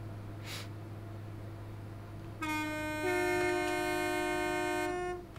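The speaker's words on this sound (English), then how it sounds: "the horn is way too long" A long, loud two-tone train horn sounds on the Birmingham Cross City Line in Train Simulator Classic, starting suddenly over a low steady engine hum, shifting tone partway and holding for nearly three seconds before cutting off.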